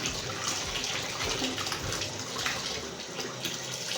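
Water splashes and swirls steadily as chopped potatoes are rinsed and rubbed under running water, with no talking over it.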